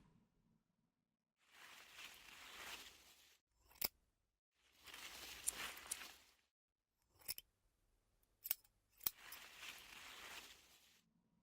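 Scissors trim pink peony flowers in a quiet room: soft rustling bursts of handling stems and petals alternate with several sharp, crisp snips, close and with no talk.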